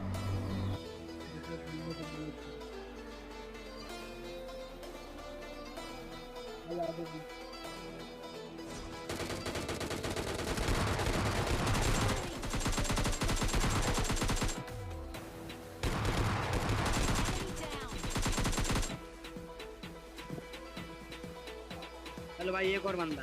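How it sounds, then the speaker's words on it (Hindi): PUBG Lite battle gunfire erupts in loud, sustained volleys in the middle and later stretch, while someone talks throughout over quieter game sounds. "पर फिर से पीछे से फायरिंग आती है"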